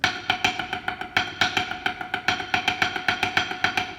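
A steady run of drum downstrokes played with poor technique, evenly paced, each hit somewhat thin and uneven in strength, with no talking.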